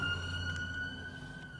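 An emergency vehicle siren wails faintly outside, a steady distant tone sustained through the short moment with no other sound over it.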